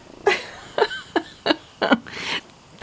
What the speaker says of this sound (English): Ooh, kitty.